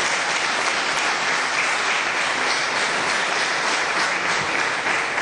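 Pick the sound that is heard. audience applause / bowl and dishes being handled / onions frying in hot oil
audience applause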